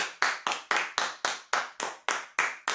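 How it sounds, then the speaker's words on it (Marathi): Rhythmic hand claps greet the prize draw winners, about eleven sharp, evenly spaced claps in quick steady succession, close and fairly loud, with no voices. "टाळ्या होऊ द्यायसाठी"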